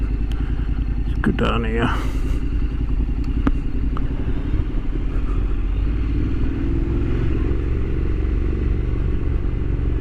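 A Honda NC750X with DCT gearbox rides along with a steady low engine rumble and wind noise throughout, a rider speaking briefly near the start over the continuous drone.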